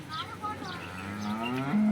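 A local Banaskantha cow on a dairy farm gives a long, loud, close moo that rises and swells toward the end, with faint background noise.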